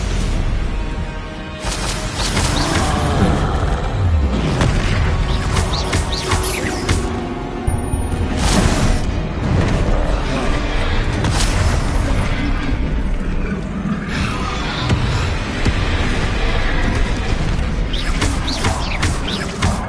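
Confringo blasting spell explosions in the Hogwarts Legacy video game: loud, dense combat noise with repeated bursts and booms in close succession amid crashing effects, sustained throughout.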